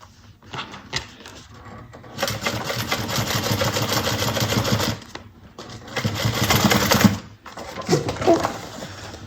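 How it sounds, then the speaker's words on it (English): A sewing machine stitching pockets onto a bucket bag, running in loud bursts of rapid mechanical chatter with short pauses and handling noises between them. "We're just getting our pockets sewn on."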